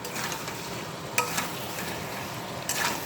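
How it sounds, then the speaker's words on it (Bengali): Potatoes stir-fried in a pan for a vegetarian aloo dum, a continuous close sizzle with a few sharp spatula scrapes against the pan. "এবার আলুটা দিয়ে হালকাভাবে কষে দিতে হবে।"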